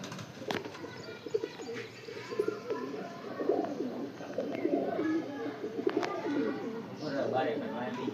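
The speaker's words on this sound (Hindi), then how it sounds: "हुसैन भाई उसके कबूतर बाहर निकल रहे" Pigeons in a rooftop loft setup coo steadily in soft, low, overlapping phrases, with occasional chirps and wing movement under faint background voices.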